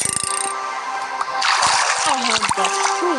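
Water splashing in a Minecraft hardcore game, a close burst of splashy sloshing that rises midway and continues under background game noise.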